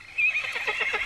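A small wild pony gives a single close, loud neigh that rises high and then breaks into a quavering whinny.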